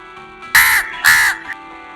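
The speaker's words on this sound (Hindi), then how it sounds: "वो कौवा है।" A crow gives two loud, harsh caws close by, each lasting about a quarter second with a short gap between them, then a faint third note.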